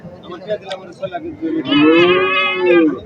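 A local native-breed cow lets out a loud, drawn-out moo close by at a cattle market, following a few brief murmured voices.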